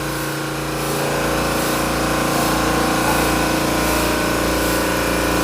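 A ship's engine runs in its engine room, a loud, constant droning hum with steady mechanical throbbing that fills the space unbroken from start to finish.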